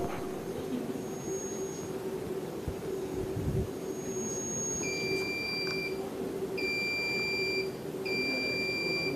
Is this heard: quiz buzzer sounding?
yes